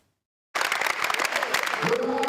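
Spectators at a regional judo gathering applaud visiting French national team judokas, the clapping bursting in after a short silence and rolling on thick and sustained, with a voice rising over it near the end.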